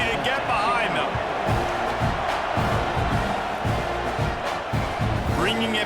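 A college football video game stadium crowd at a Texas A&M home game with Illinois roars and cheers at kickoff, a dense continuous wall of noise with rhythmic swells.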